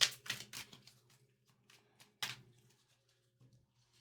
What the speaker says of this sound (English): I will be shuffling the Light Seers Tarot next